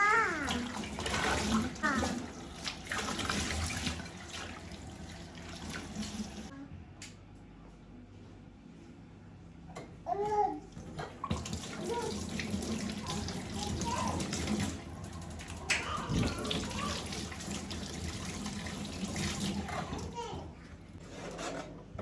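Dishes being washed under a running tap in an Egyptian home kitchen, a steady loud gush of water with clattering, while people talk nearby.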